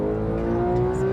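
A high-revving car engine with a 9,000 RPM redline holds a steady, loud whine close by. It sustains for a moment without any talk.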